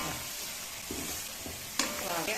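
Dried red chilies, garlic and mustard seeds fry in hot oil for a tempering, giving a steady, close sizzle with a few stirring scrapes and a sharper crackle near the end; no one speaks.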